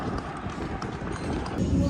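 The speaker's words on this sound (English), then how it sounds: "The traditional Nicaraguan horse." Nicaraguan horse hooves clip-clop in a quick, even rhythm against a noisy outdoor background.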